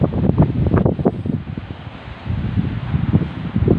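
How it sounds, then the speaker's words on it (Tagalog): Strong wind buffets the microphone in loud, gusting low rumbles throughout, with a faint wash like surf behind it. "Grabe kakusog sa hangin"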